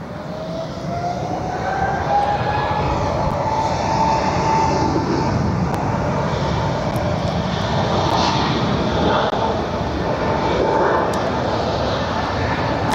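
Steady, loud roar of jet airliners at Barcelona airport, a continuous engine drone with a rising whine, heard from a distance with no talk.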